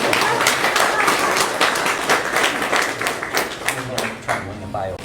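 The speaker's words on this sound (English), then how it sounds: "give him a round of applause, please" Banquet audience applauding in a hall, dense steady clapping from many hands that holds for several seconds, with scattered murmuring voices underneath and a voice faintly speaking near the end.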